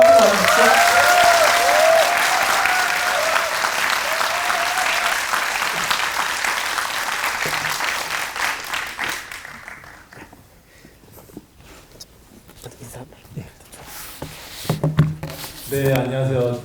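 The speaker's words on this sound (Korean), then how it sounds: "큰 박수 주십시오" A cinema audience at a post-screening talk for the film Deliver Us from Evil claps loudly to welcome director Hong Won-chan, the applause holding for about nine seconds before fading into quieter shuffling and a few voices.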